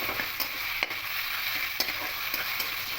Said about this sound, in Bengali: মাছের মাথার সঙ্গে কচু শাকটা এভাবে করে মিনিট পাঁচেক ধরে করতে লাগবো